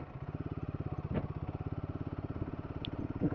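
A Hero Karizma motorcycle engine runs with a steady, fast, even thump, close and moderately loud, with a brief rattle partway through and no talking.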